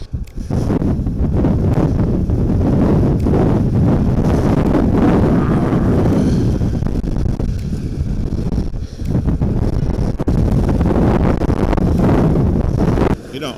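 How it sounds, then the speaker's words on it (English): Strong gusting wind at Torres del Paine buffets the microphone in a loud, continuous roar that almost never lets up, with faint voices barely audible beneath it. "that wind is so strong"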